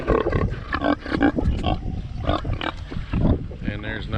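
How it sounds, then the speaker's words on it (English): A pig on a small backyard farm grunts and snorts in rough, throaty bursts close to the microphone, repeated steadily and fairly loud. "Hello, Penny Pig"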